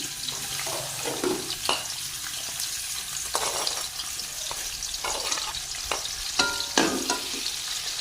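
Onions fry in a pan with a continuous sizzle, broken by frequent scraping stir strokes and clattering utensil sounds at an uneven pace. Nobody speaks.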